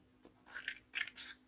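Scissors snipping through folded paper while cutting out a shape for a toddler's home activity, several short crisp cuts in quick succession, close and fairly quiet.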